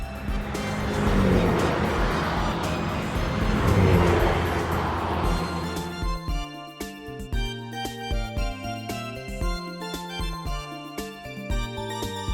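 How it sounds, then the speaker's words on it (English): A taxi car drives past with a steady engine and tire roar for about six seconds before giving way to upbeat music. "Taxi."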